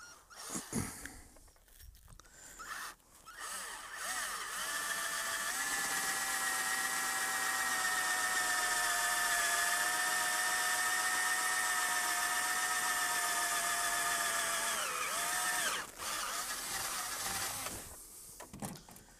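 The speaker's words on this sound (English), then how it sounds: "it sure is nice to have some cordless power tools once in a while" A cordless power tool whirs steadily for about twelve seconds, its motor pitch shifting slightly before it winds down, with brief handling noises around it.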